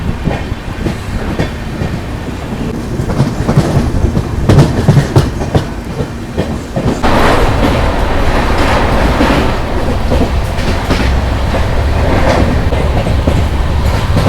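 A superfast express train arrives at Shreedham railway station in rain, rumbling loudly with rhythmic clacking of wheels over rail joints, a steady heavy roar close by.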